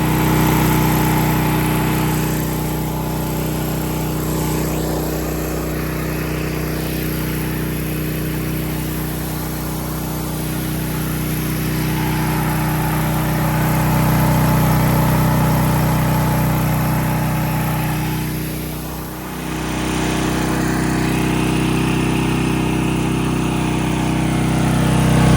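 Gas-powered DeWalt 4400 psi pressure washer fitted with a replacement 4 gpm pump runs at a steady, loud drone, with a brief dip in the engine note before it settles back to an even hum.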